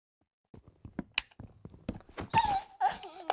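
Wolves in the Minecraft video game make a run of short yelps and barks, then rising whines and whimpers toward the end, fairly close and alone with no talk.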